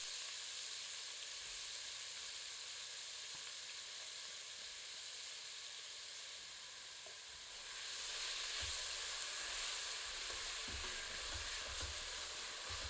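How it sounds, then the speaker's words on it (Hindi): Onions frying in a pan over medium heat, a steady broad sizzle and hiss that swells a little louder partway through, with faint stirring clicks, close and without talk. "मध्यम आंच पर भूनकर प्याज को सुनहरा कर लेते हैं।"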